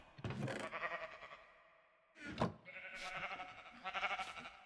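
Sheep in a video game bleating three times, short wavering calls separated by brief pauses, fairly close with no talk over them.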